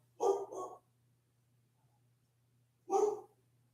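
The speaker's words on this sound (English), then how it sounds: "What are you barking at, dog?" A dog barks close by: a quick double bark, a pause of about two seconds, then a single bark, with quiet in between.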